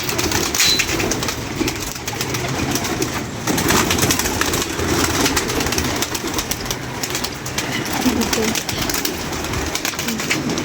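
Pigeons in a loft during a sale of twelve birds, their soft cooing and wing noise heard close and steady amid a busy, noisy background, with a person talking over them.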